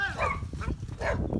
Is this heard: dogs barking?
yes